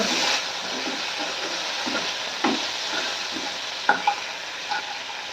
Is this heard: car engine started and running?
no